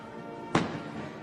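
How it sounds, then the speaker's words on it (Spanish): A single cannon shot booms at a reenactment of the Battle of Zacatecas, a short heavy blast that fades quickly over faint ambient noise. "daría inicio con el estruendo de un cañonazo"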